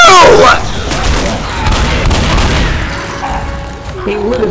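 A pipe bomb goes off in the Left 4 Dead video game: a loud burst of booming, crackling blasts rolls on for several seconds as game sounds keep going and players shout over the noise.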